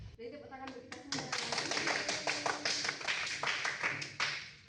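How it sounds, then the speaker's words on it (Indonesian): A classroom group claps in a quick, uneven patter of sharp hand claps lasting several seconds, with voices mixed in during a microteaching lesson on electrolyte solutions. "jadi tepuk tangan untuk kita semua."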